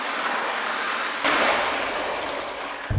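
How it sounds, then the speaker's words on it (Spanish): A hose refilling a toilet cistern pours into water with a steady, hissing splash. Partway through, the mouth is pushed under the surface and the sound turns to a fuller, muffled gurgle. "metemos la manguera debajo del agua"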